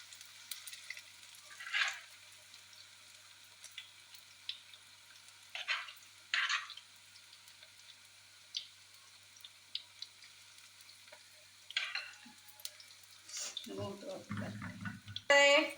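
Okra pieces drop one by one into hot oil, each raising a short burst of bubbling sizzle over a quiet background, with a louder, busier frying surge near the end.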